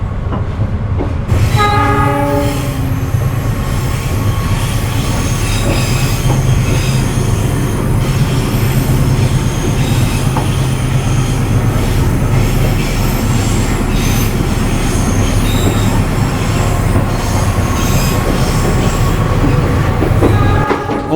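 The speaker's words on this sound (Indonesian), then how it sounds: "Tepat berangkat stasiun Purwakarta. Dan ini di depan kita langsung lokomotif nih." A Cikuray passenger train hauled by a CC 206 diesel locomotive pulls out of Purwakarta station, opening with a horn blast, then a loud, continuous engine roar and rolling rail rumble close by.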